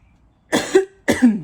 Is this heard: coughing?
yes